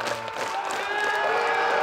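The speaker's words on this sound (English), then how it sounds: "you're going to have an entire awesome crowd" A raucous disc golf gallery cheers and applauds near the basket at a tournament final, a dense, steady wash of clapping, whoops and crowd noise that holds loud throughout.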